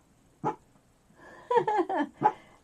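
A sleeping female dog dreams aloud indoors, letting out one soft muffled woof, then a cluster of small yips and whimpering squeaks close by, with no talking over them.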